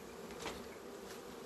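Honey bees buzz steadily inside a queenless hive in February, a continuous close hum with no voices over it.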